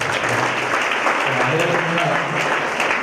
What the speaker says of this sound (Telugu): అందరూ ఒకసారి క్లాప్స్.